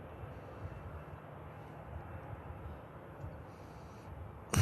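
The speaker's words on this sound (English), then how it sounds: "Yeah, there's plenty of planes." A fixed-wing airplane passes at a plane-spotting location, its engine a steady, moderately distant roar that holds for several seconds before a brief louder thump at the end, with no talk.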